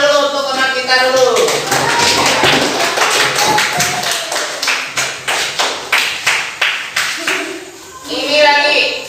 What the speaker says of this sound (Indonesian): Tepuk tangan dulu untuk teman kita dulu.